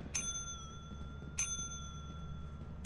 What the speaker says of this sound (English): I dinged the bell twice.